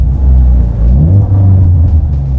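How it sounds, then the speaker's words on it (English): A Ford Mustang EcoBoost fitted with a Kooks turbo-back exhaust is revved up close by, giving a loud, deep, burbly engine roar that rises and holds through the clip. "the exhaust is much more burbly than the factory system and gives a nice tone. If we rev up just a little bit,"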